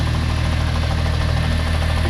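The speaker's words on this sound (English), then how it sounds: "the gearbox has got a bit of a clatter, so we'll have to have that attended to" A Volkswagen VR6 engine idles steadily up close with a gearbox clatter, a continuous low rumble holding an even throb throughout, no voices over it.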